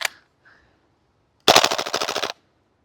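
A Krytac KRISS Vector gas blowback airsoft SMG fires a quick full-auto burst of about a dozen sharp, evenly spaced cracks lasting under a second. It is close and loud, with a couple of faint clicks before it.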